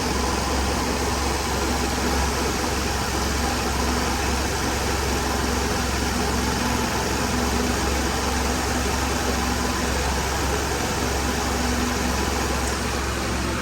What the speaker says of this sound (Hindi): तो जी स्कूटी हो गई स्टार्ट, इसकी एक्सीलेटर थोड़ा सा कम करें